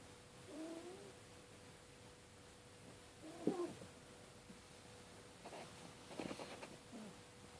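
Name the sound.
cat meowing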